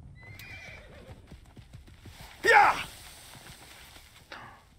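A horse whinnies loudly in the middle of a short stretch of soft hoof clip-clop in the video game Assassin's Creed Origins, with quiet background game ambience around it.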